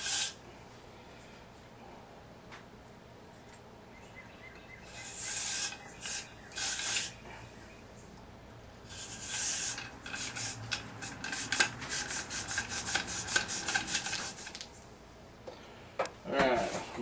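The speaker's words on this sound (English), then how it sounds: "Run your brush in and out of there." Wire cleaning brush rubbing back and forth inside a hot, rusty muzzleloader barrel, giving repeated raspy scrubbing strokes in bursts, close and moderately loud, with quiet gaps between runs.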